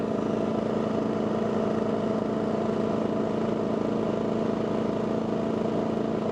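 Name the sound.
Champion 4000 and Wen 3600 dual fuel generators idling, eco mode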